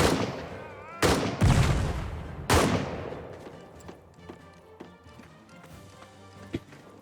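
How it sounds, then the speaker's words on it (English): Gunfire in a World War I trench combat video game: a few loud, sharp shot bursts in the opening seconds, then scattered fainter cracks and pops trailing off over a low rumble. "And with Kohn and with Lotse, I'm going to be firing at the enemy."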